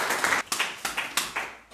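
Applause at a live casting show, several bursts of clapping separated by brief gaps, close and fairly loud with no talking.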